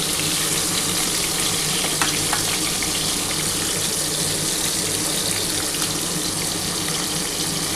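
Large prawns frying in hot oil, a continuous loud, close hiss of sizzling that holds steady and even throughout.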